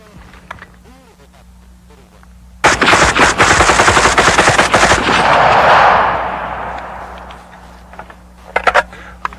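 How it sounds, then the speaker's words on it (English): A rapid string of gunshots fired at five targets, about twenty rounds in quick succession, loud and close, filling several seconds before stopping, with a few scattered sharp reports afterward. "I'm going to try my best to hit those 5 targets with 20 rounds."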